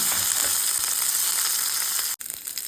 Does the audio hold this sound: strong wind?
no